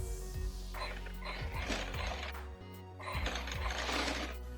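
Domestic sewing machine running steady stitches along the back part of a floral print long gown's bodice, a continuous mechanical whir with small rhythmic clicks, pausing briefly midway before resuming.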